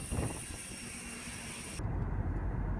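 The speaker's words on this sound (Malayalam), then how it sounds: "വിമാനം യാത്ര പുറപ്പെട്ടു." Airliner departing for Ladakh, a steady broad engine roar heard from inside the cabin that grows heavier and lower partway through as thrust builds.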